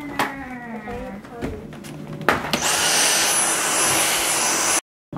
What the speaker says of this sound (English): someone bring the vacuum.